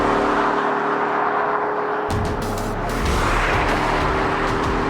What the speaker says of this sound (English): When this turbo hits, you're gone.